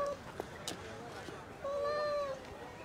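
A cat gives a short meow at a crime scene, a clear rising-falling call near the end of the moment, faint against background room noise with brief clicks earlier.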